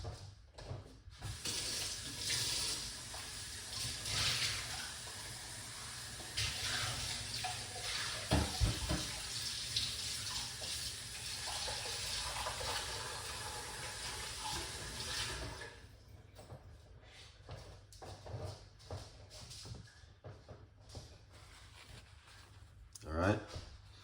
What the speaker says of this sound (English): we're going to wash off our okra